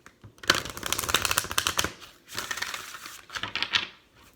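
Tarot cards are shuffled and drawn up close in rapid papery riffles and flutters, with two bursts of dense crisp flicking and a shorter final riffle, moderately quiet with no speech.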